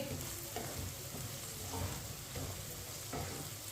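Ground red chili, crushed red chili, turmeric and coriander cook on a very low flame for karela dal, a soft continuous sizzle with light stirring scrapes and no voices.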